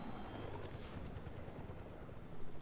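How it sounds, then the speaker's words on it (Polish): Helicopter in the Fortnite video game, a steady low rotor drone and engine rumble holding at an even, moderate level throughout, with no talk. "Generalnie sobie możemy tankować helikopter."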